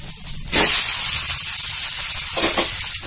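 Drumstick leaf adai batter hissing and sizzling in oil on a hot pan, a steady close fry with a sharper burst of spatter near the start and again toward the end.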